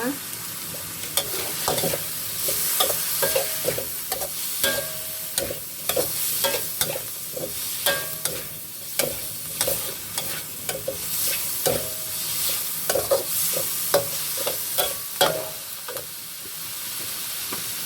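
Pork belly stir-fried with lemongrass and bird's eye chillies crackles and sizzles loudly, with repeated rhythmic scrapes and clanks of a spatula against the pan throughout.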